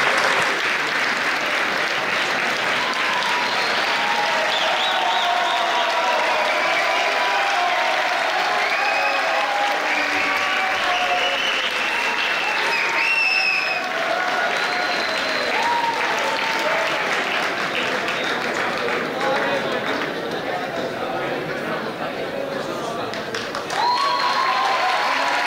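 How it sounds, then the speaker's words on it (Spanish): A large audience at an award gala gives a long, dense, sustained round of applause that keeps an even level throughout, with whistles and cheering mixed into the clapping. "Un fuerte aplauso."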